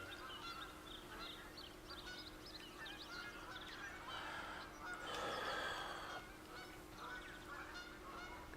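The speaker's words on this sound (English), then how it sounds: "A lot of geese." Geese honking in theHunter: Call of the Wild hunting game, a flock of calls overlapping at a moderate distance over a steady background hum, with a louder cluster of honks midway.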